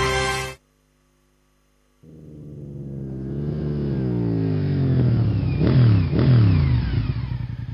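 A Mahindra motorcycle engine revs up from a low rumble, climbing in pitch with a couple of sharp throttle blips, loud and close, after a brief silence.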